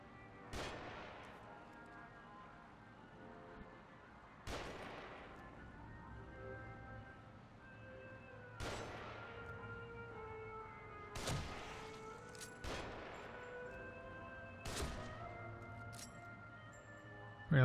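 Sniper rifle shots echo in The Evil Within, six sharp cracks spaced a few seconds apart over a low game ambience, each with a ringing tail and one louder burst at the very end.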